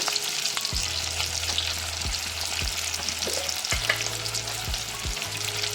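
Dried loitta fish fries with salt in a wok, a close, continuous sizzle punctuated by several stirring scrapes and knocks, over a low steady hum and with no voices.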